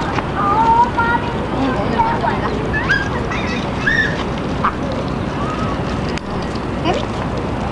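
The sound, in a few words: ducks quacking at a pond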